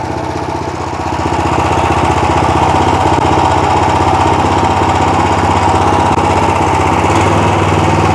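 A Motor Sich MB-13E walk-behind tractor engine runs loud and close, with a steady, rapid chugging drone that swells slightly at the start and holds.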